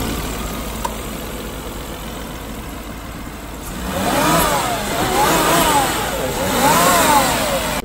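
A turbocharged Volvo car pulls away, its engine rising from a steady low drone to louder revving with repeated climbing surges as the turbo builds, heard from inside the car with no talk.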